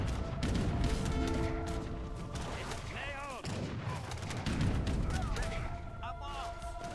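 Cannon fire from an Age of Empires 3 battle: dense, overlapping booms and gunfire bursts over continuous game sound, with a few brief tonal effects in between.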